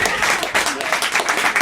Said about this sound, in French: On vous applaudit et on vous remercie tous les deux.